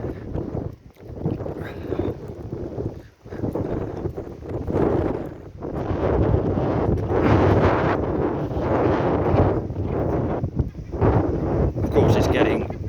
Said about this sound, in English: Of course, it's getting extra blustery now when I want to leave the complex.